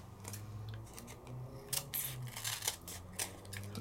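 Scissors trimming a sheet of paper for foiling, with a run of quick, close snips and crisp paper rustles over a faint background hum.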